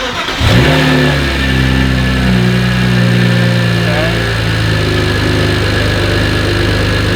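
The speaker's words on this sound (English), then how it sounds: "I'm gonna turn this on, and I'm gonna hope that when I rev it, it applies the boost" A BMW N54 engine fitted with a VRSF chargepipe and TiAL blow-off valve starts up, then holds a loud, steady rev with a deep rumbling drone close by.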